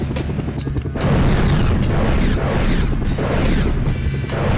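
A heavy missile impact explosion in the SEGA Saturn video game Black Fire, a loud, close, rumbling boom with repeated crashing bursts sustained over several seconds.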